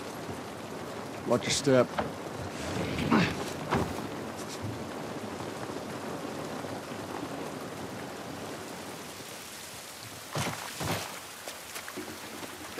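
Rain in The Last of Us Part I falls as a steady, soft wash of patter outdoors, continuing beneath footsteps, occasional short voices and scattered brief knocks.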